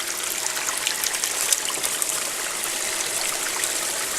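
Water carrying shells, rocks and unclassified gravel pours through a black sand gold sluice mat, a loud, steady, close rushing trickle with small clatters and no talking.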